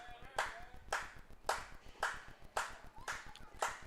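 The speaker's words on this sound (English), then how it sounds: "Fans start to clap." A baseball crowd claps in a slow, steady rhythm, about two claps a second, sounding distant and faint across a large ballpark.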